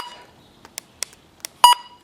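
A series of short electronic beeps from button presses on a Midland handheld radio, spaced irregularly, ending with a slightly longer, louder double tone; close and crisp with no talking.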